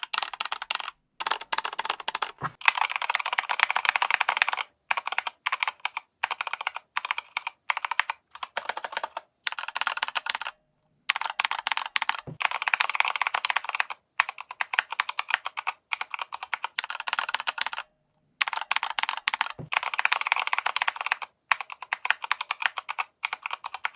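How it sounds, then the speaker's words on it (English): Steady fast typing on a Keychron K2 mechanical keyboard fitted with new aftermarket keycaps, crisp close clacks running in bursts with brief pauses between them. "this is the Kechron K2 keyboard with the keycaps that I got"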